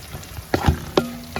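Curry leaves hit hot oil in a pan of bitter gourd for pickle, giving a few quick sizzling bursts and crackles over a steady low frying hiss.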